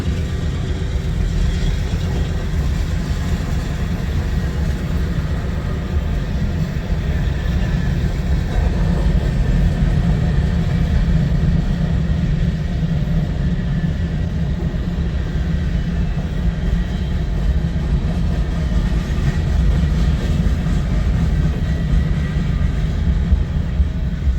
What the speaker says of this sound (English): this train's heading east on the UP main.